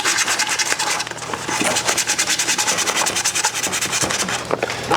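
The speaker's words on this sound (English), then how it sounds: "So just sand right there along that edge." Sandpaper rubs steadily along the edge of a small craft piece, making a loud, close, rhythmic scratching with fast back-and-forth strokes and no talking.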